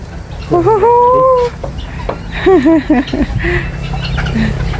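Chickens clucking nearby in short bursts, with a few longer drawn-out calls, over a faint background hum.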